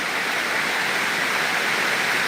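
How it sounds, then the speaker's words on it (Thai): Continuous heavy rainfall with no thunder or wind, a broad, even roar of water pouring down nearby, with no other sounds breaking through. "ฝนตกแบบนี้ชอบนะคะ ตกแบบไม่มีฟ้ามีลมนะคะ"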